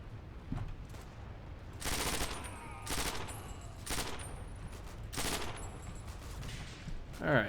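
A PPSh submachine gun fires in Forgotten Hope during a Berlin battle, with four or five distinct rapid bursts spaced about a second apart, fairly loud over low background ambience.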